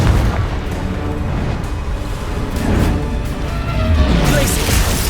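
A Confringo fire spell explosion from the Hogwarts Legacy video game on PS5 produces a sustained, loud rumbling boom with crackling debris, continuous and dense throughout with no clear gaps.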